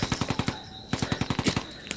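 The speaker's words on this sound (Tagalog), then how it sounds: "May mga putok ng baril mga idol." Distant gunfire rings out in rapid bursts, a run of sharp regular cracks, a short pause, then another quick volley and a last lone shot, all carrying across open ground with no voices over it.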